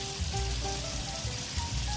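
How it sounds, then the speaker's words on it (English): Fish frying in a pan of hot oil for a stew gives a steady, even sizzle and crackle that continues throughout at moderate loudness. "make sure that my fish fry evenly"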